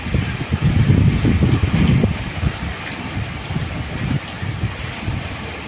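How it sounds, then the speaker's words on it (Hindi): Heavy rain lashes down in a sudden storm with strong gusting wind, a loud roaring wash that swells in the first two seconds, then settles into a steady dense downpour with scattered drop hits and no talking. "अचानक से काफी तेज बारिश भी शुरू"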